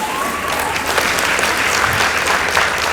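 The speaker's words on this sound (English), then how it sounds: "Let's give them a round of applause." An audience at a school debate semifinal gives sustained, dense applause for the Mpesa Foundation Academy team, loud and close with steady clapping throughout.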